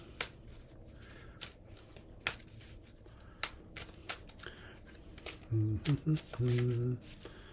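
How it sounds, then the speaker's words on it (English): Crisp riffling and snapping of tarot cards being shuffled, repeated in quick bursts, with a short stretch of voiced humming or speech near the end. "Something's telling me to keep shuffling for a minute."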